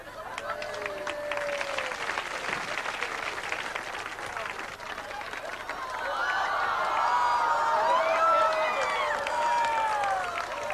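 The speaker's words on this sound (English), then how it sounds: "next round of applause, Shep the Shitzel." Audience applause and cheering at a live stage show, a room full of clapping with whoops rising toward the middle and voices and tonal calls mixed in above it.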